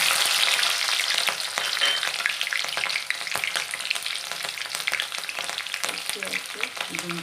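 Green chillies fry in hot oil for a bitter gourd bhaji, giving a close, steady sizzle dotted with sharp pops and crackles throughout, with no voices.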